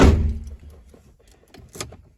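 A 1993 Mitsubishi Evolution 1 car door swings shut with one solid, close thud, followed by quieter rattles and small clicks as the cabin settles.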